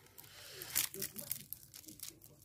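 The sticky cardboard flap of box 11 on an advent calendar is torn open close up, a crinkling rip lasting a couple of seconds at quiet level.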